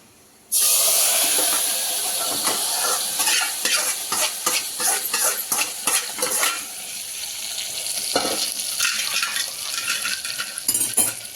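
Fried tempering with curry leaves is tipped into a yellow cucumber dal and stirred. A loud, steady sizzle and hiss bursts in suddenly and carries on with spoon-against-pot scraping throughout.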